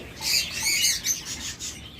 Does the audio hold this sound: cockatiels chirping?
yes